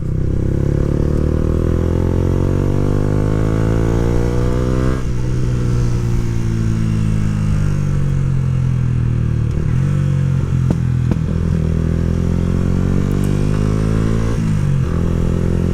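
A Yamaha YZF R125 motorcycle engine drones loudly on the move, revving up and dropping between gear shifts with a rough, buzzy tone and some clattering.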